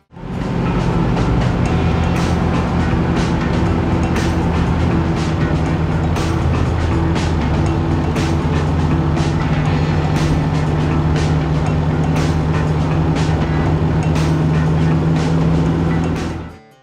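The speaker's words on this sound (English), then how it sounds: "That right there is the 1970 Pontiac Firebird Trans Am." A 1970 Pontiac Firebird Trans Am engine rumbles in a deep, steady drone, loud and close, holding a constant idle-like tone for the whole stretch before ending abruptly.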